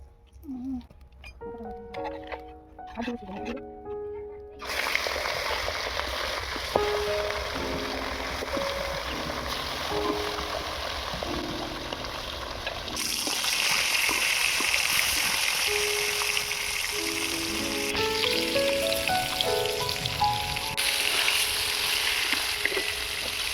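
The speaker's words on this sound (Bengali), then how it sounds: "এবারে মাছটা ভেজে নেবো" Rohu fish pieces hit a hot frying pan and set off a sudden loud hiss that swells to a steady, bright sizzle. A soft melodic tone plays beneath it throughout.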